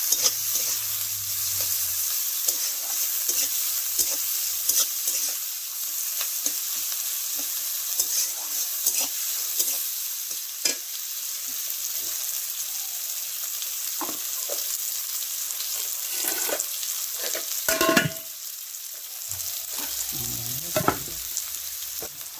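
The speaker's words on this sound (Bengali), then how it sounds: "পেঁয়াজগুলোকে আবার একটু নেড়ে চেড়ে লাল লাল করে ভেজে নিতে হবে" Chopped onions frying in oil in a wok for egg biryani, a steady close sizzle with repeated scraping and clacking strokes of a spatula as they are stirred, plus a few louder knocks.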